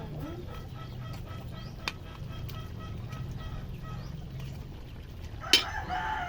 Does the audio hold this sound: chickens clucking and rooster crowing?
yes